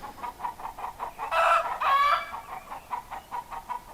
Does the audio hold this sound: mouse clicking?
no